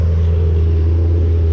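A 2006 Maserati GranSport Spyder engine idles and is revved lightly, giving a steady, loud, close low rumble with no clear rise in pitch and no voices.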